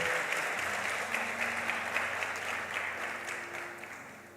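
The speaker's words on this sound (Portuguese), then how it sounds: "Vamos aplaudir o Senhor" A church congregation applauds in praise of the Lord during a Portuguese-language sermon, a steady wash of many hands clapping at moderate distance with faint organ or keyboard tones sustained underneath.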